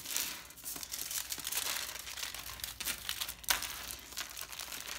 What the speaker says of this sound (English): take a couple skewers, and I'm just going to wrap them in non-stick foil